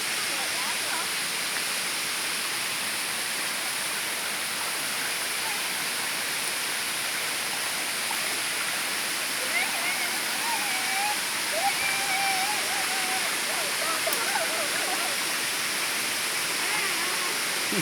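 A waterfall beside a hiking trail roars as a dense, continuous broadband rush at steady loudness, with faint voices and calls surfacing briefly above the water.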